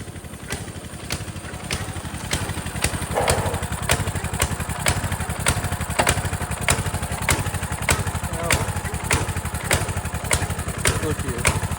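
A Coleman mini bike engine with a freshly rebuilt carburetor and a suspected fuel problem idles roughly up close, a steady loud chugging with uneven, pulsing beats throughout.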